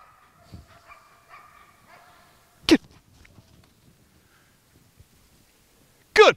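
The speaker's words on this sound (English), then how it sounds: "What an awesome dog." A working dog whimpers softly in short whines, then gives two sharp, loud barks several seconds apart against an otherwise quiet outdoor background.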